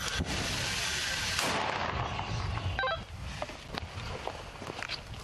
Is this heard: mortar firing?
yes